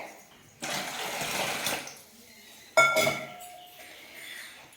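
Starchy water drained from cooked rice splashes and pours into a pot for a moment, then a glassy clink and a second burst of liquid sounds, close and fairly loud.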